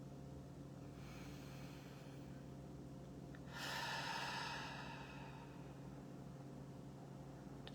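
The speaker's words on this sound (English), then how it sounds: "We're going to do a couple deep breaths in through the nose, out through the mouth." During a guided breathing exercise, a single deep breath swells softly and then fades in an otherwise very quiet room.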